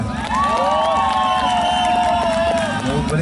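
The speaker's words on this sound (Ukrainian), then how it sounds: "Номер чотири аплодисменти." A festival audience at a Neptune Day motorcycle event cheers loudly for contestant number four. Continuous crowd noise with shouts and some clapping runs throughout, with voices mixed in.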